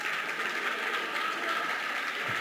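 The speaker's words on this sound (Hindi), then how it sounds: "ताली क्यों बजा रहे हैं आप लोग?" An audience at a Jain monk's religious discourse claps in a continuous, even patter of many hands, fairly close, that carries on without a break.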